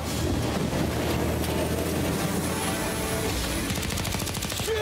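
Enemy gunfire in Mafia Definitive Edition crackles in rapid bursts over a dense, loud wash of engine and wind noise, continuous throughout.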